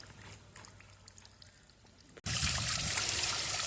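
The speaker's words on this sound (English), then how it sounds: "It's even nicer with the little waterfall." A small waterfall beside an animal sculpture at a lowcountry zoo in a South Carolina garden trickles quietly at first, then a loud, steady rush of splashing water takes over after a sudden cut.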